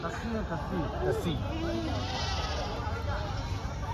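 Goats and sheep bleat repeatedly at the Anupur goat and sheep market, with several overlapping wavering cries under constant crowd chatter and nearby talk.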